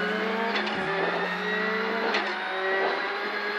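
Rally car on a gravel stage at the Galway International Rally in Ireland, engine droning steadily at high revs with a couple of gear-change dips, close and loud throughout, no talking.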